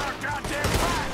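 Gunfire during a shootout in Red Dead Redemption 2: a quick burst of loud, overlapping shots filling about a second of game sound, with no voice over it.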